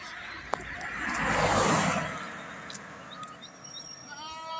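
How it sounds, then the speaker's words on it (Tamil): A single goat bleats in an open green pasture on a pilgrimage route along the Narmada, a short wavering call rising over steady outdoor rustle and faint background sound, fairly near and moderately loud. "தனியாக ஒரு ஆட்டு நிற்கிது பாருங்க."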